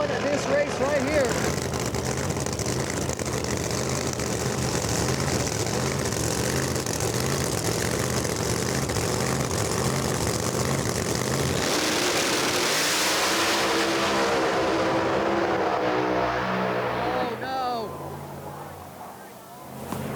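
A pair of no-prep drag race cars racing at Firebird Raceway: loud, sustained engine roar that fills the scene, then shifts in pitch and character partway through before tapering off as the cars pull away.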